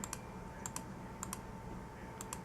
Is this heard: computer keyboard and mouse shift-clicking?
yes